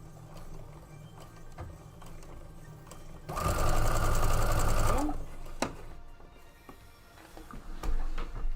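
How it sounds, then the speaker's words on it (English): A sewing machine runs in one steady, loud whirring burst of about two seconds as it stitches fabric edges. Quieter room noise and faint talk come before and after it. "We're just sewing up the edges."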